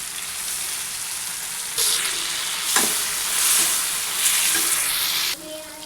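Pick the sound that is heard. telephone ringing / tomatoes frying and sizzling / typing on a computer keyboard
tomatoes frying and sizzling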